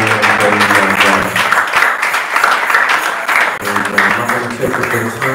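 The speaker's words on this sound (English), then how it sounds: "Clap your hands one more time" Church congregation clapping during an evening anniversary service, a steady dense wash of hands with organ or music tones and voices underneath throughout.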